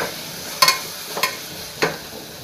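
A spoon stirs a vegetable biryani mixture in a pot over a quiet background sizzle, giving three distinct scraping knocks spaced about half a second apart, nobody speaking.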